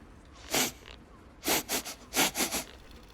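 A character in Baldur's Gate 3 pretending to be a dog, sniffing in short nasal bursts: one sniff, a pause, then two quick sets of three sniffs, close and clear over a quiet background.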